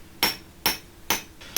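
A blacksmith strikes hot metal on an anvil, four sharp, ringing hammer blows landing at an even pace, close and loud against a quiet background.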